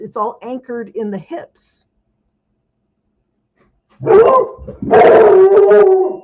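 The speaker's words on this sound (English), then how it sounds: "Sorry about that. That was my dog." A large dog howls and yips loudly and close by, long wavering cries rising and falling in two bursts after a woman's short stretch of speech and a pause.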